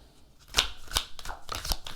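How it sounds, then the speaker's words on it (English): Tarot cards being shuffled by hand, with several crisp riffling bursts and soft flicks in an uneven rhythm, quiet and close. "Let's go ahead and start with our shuffle."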